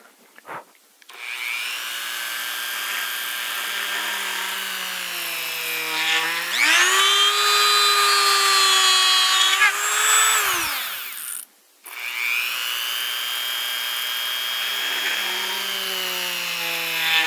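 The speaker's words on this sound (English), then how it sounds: "I like to use a variable speed Dremel" A variable-speed Dremel drilling holes during rifle prop assembly whines steadily, its pitch rising sharply for a few seconds, dipping, then settling back to a lower hum; no voices.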